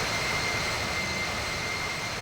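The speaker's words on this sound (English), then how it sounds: "you can't hear me, the engines are too loud" Jet engine roar from an airliner in the Infinite Flight simulator game, a steady, loud, broadband drone with a faint high whine, unbroken and with no talk.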